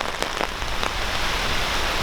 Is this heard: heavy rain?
yes